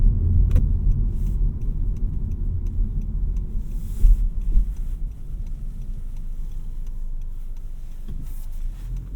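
A 2023 Honda Civic EX 1.5T with a CVT drives along, its steady low engine and road rumble filling the cabin at close range, with small ticks and rattles over it and no talk.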